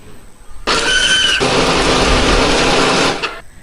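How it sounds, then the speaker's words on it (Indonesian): A kitchen blender grinds a spice paste for a chicken offal dish, switching on abruptly with a loud, high whirring roar that runs steadily for about two and a half seconds before cutting off and spinning down. "Hari ini aku menghaluskannya pakai blender."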